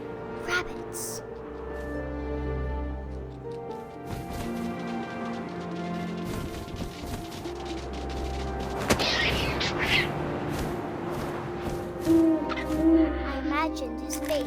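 Owl hooting in the video game What Remains of Edith Finch, low repeated hoots over a layer of wind and game music, with a narrating voice talking throughout.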